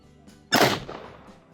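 A single sharp report from a compact pocket AK-47-style firearm fired during range testing, a loud broadband crack with a short decaying tail, alone with no talk.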